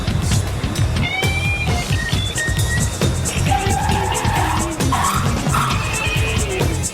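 A dealer's €200,000 Bentley is driven hard, its engine roaring steadily while tires squeal in repeated shrill bursts that rise and slide over the loud, continuous motor drone.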